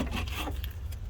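Brake caliper being pried off the front of a 2012 Subaru Legacy during a pad and rotor change, a short scraping, rubbing metal sound up close that lasts about half a second and then fades to quiet.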